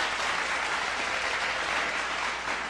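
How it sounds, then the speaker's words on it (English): Brief burst of studio-audience applause, dense steady clapping from many hands held at an even level for about three seconds with no voices over it. "That was a loud little clap for you, bro."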